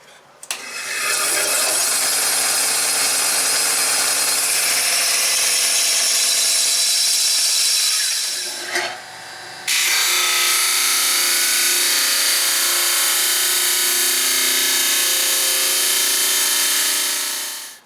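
A power tool cuts and sands a small wooden half box, a loud continuous grinding whine close by that pauses briefly midway, then resumes steadily.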